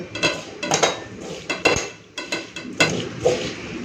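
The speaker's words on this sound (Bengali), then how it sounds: "চলুন এরপর মেখে নিই হাত দিয়ে ভালো করে মেখে নেব" Catla fish is mixed by hand with mustard oil and spices in a metal kadai, producing uneven, repeated clinks and scrapes of metal, close and fairly loud, with no talking.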